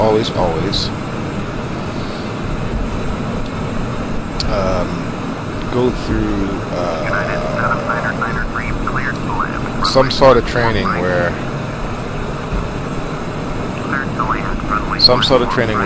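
Airplane engine in Microsoft Flight Simulator X, a steady droning hum running continuously under someone talking throughout.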